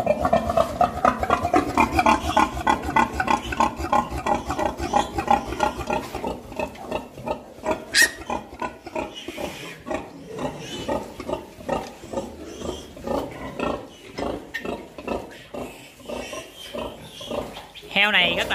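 A sow and her piglets grunting and squealing close by, the rhythmic grunts repeating steadily while high squeals break through now and then, with a person talking over them.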